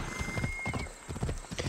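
Horse galloping in Assassin's Creed Odyssey, a quick run of rhythmic hoof clip-clops with a brief whinny, close and clear with game ambience behind.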